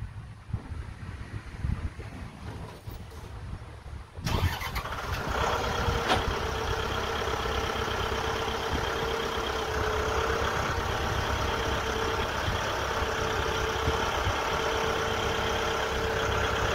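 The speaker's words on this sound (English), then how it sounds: "now we'll get the tractor on there and get those off." A tractor engine cranks and catches after several seconds of quiet, then settles into a steady, fairly loud outdoor idle with no one speaking.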